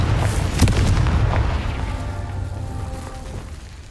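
Confringo spell explosion in the video game Hogwarts Legacy: a single deep, booming blast that fades away over a few seconds.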